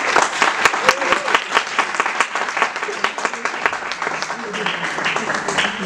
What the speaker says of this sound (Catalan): si us plau, un aplaudiment per les persones que hi ha aquí